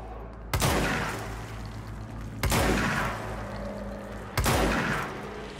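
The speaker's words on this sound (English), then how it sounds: "it's basically a shotgun" A shotgun-like weapon fires three times in the video game Control. Each blast is heavy and booming, with a long rumbling tail and about two seconds between shots, over a steady low background hum.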